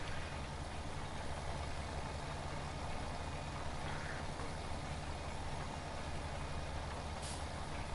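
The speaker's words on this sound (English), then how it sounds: "Betty hasn't had an exhaust in years, Nicholson. She's literally just got a Y pipe" A truck whose exhaust is gone, leaving only a Y pipe, idles in a steady, continuous low rumble that stays level and close throughout, with no talk.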